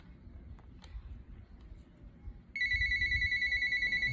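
Indoors, a phone starts ringing halfway through with a steady, pulsing electronic ring that is loud and close, after a stretch of low background rumble and faint talking.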